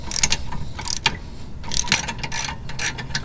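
A ratchet tightens the rear brake fasteners on a Volkswagen Jetta MK6, making quick, close clicking bursts in an uneven rhythm with brief gaps between the runs of clicks.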